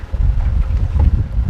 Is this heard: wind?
yes